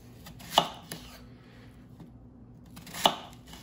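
A knife chops a white onion on a board for soup, giving two sharp, separate cuts about two and a half seconds apart, with quiet room noise between them.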